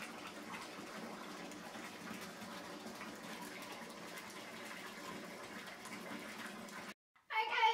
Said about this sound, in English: So I'm gonna fill up my water the rest of the way and hop on in here